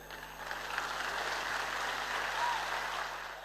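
An audience applauds steadily at a product launch event, the clapping sustained and moderately distant in a large hall.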